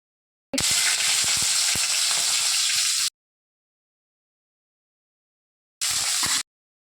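Oil sizzling and frying in a pan while cooking chicken cutlets, a loud steady hiss with crackles for a few seconds, then a short second burst after a pause.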